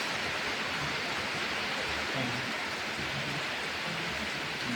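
Heavy, nearly nonstop rain pours down as a constant dense hiss, even and unbroken from start to finish, with no talking.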